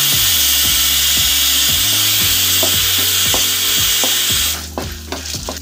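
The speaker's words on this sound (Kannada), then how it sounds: "ಇದನ್ನ ಫ್ರೈ ಮಾಡ್ಕೊಳ್ಳೋಣ." Chana dal, coriander seeds and dried red chillies fry in a pan with a loud, steady sizzle, while a spoon scrapes and clicks against the pan in a regular stirring rhythm. Toward the end the sizzle drops and the stirring becomes more uneven.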